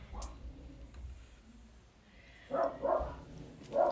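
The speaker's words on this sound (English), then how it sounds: "That's the dogs upstairs." Dogs barking upstairs in an old building, muffled, distant barks with a few louder yelps toward the end, over low room noise.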